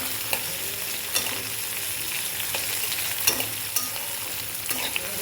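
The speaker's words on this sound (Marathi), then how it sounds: "याला छान तेलात फ्राय करूया" Green chillies frying in oil, a continuous bright sizzle close by with a few sharp pops and occasional stirring clicks.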